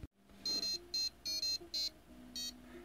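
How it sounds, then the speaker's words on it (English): High-pitched electronic buzzer beeps sound in short bursts with an uneven rhythm, thin and chiptune-like, separated by brief lower tones. "the buzzer demo seems to be working. Some 8-bit tones"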